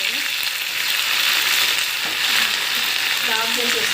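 Curry leaves and spices fry for jeera rice in a continuous, close, bright sizzle, with a few light stirring clicks near the end.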